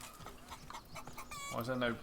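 Chickens cluck in the medieval city-building video game Manor Lords, several short clucks and a louder call toward the end, mixed with faint voice-like sounds and game ambience.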